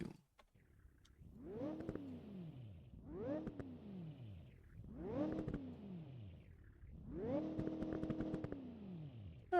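A muscle car engine in a car-building video game revs in four rising and falling pulls, each a smooth swell of the motor that then drops back, heard alone with no talking.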